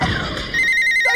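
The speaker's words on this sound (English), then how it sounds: "Don't worry, it's only the maker phone." A telephone rings with a bright, sustained electronic trill that cuts in sharply after a brief rustle of background noise.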